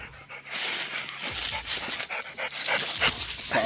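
Hunting bird dogs, out on a ruffed grouse hunt, pant hard in hot weather, a close, steady run of quick rasping breaths that lasts throughout.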